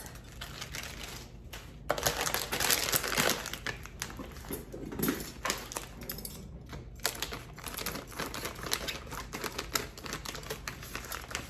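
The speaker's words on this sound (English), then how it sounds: "Open up another bag and get a cup of onions." Crinkly rustling and crackling of a plastic bag of onions being opened and handled in a kitchen, a run of close irregular crinkles and taps lasting several seconds with no talk.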